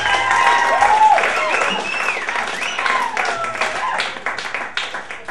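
Lively audience applause at a stand-up comedy show, a thick burst of clapping and crowd noise with a voice carrying over it, thinning into scattered claps toward the end.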